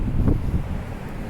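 Steady low wind off the ocean at a waterfront rumbles and buffets against the microphone, continuous and fairly loud with no other clear sounds.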